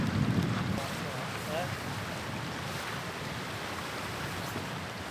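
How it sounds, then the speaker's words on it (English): Gusty wind buffets the microphone in a steady low rumble, with a stronger gust at the start and faint water or surf underneath. "And this is a little bit windy, isn't it?"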